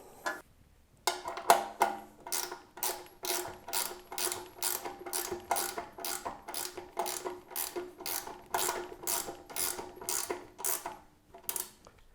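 A ratchet clicks in a fast, even series of strokes while bolts are tightened on a 3-inch wood chipper, crisp close ticks with a short pause near the start and the end.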